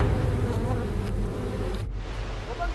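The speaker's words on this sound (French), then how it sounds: "toute la colonie d'abeilles est irritée" Irritated bees swarming from a disturbed colony, a dense continuous buzz that stays loud and close throughout, with no voices.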